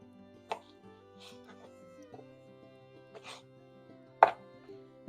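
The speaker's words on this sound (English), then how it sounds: "I'll chop that little bit off there." A knife strikes a cutting board in a few sharp, separate chops while trimming oranges for homemade cranberry sauce, with quiet soft music underneath.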